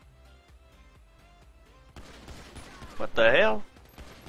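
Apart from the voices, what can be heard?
gunfire from police backup in the video game GTA V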